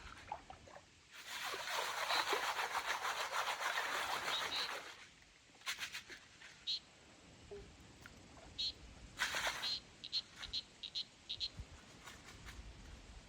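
Many different frogs call outdoors in dry country at Torrington, New South Wales, first in a long dense chorus of rapid croaks and then in scattered short calls from several frogs, moderately close, with no talk.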